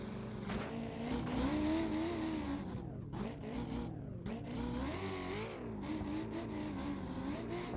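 A race car engine roars steadily through a final-round series event, loud and close, briefly dropping off around the middle as if lifting off the throttle, then pulling hard again through the rest.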